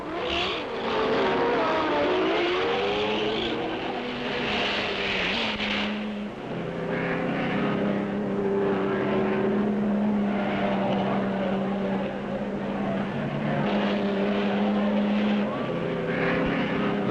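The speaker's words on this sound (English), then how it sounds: "Cortina leads nicely through the S-bends." Cortina race car running through S-bends on a circuit, a loud engine note rising and falling as it shifts, with a voice talking over it throughout.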